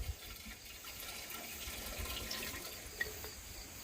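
Apple pie moonshine, about 1.5 quarts with cinnamon sticks left in, is poured back into a still pot, giving a steady liquid splash and trickle that holds for the whole stretch with a small clink near the end.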